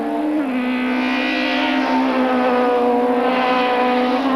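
1995 French Supertouring race cars at full speed at Paul Ricard, a loud, sustained engine roar with a shifting pitch that drops slightly early on and holds steady, no voices.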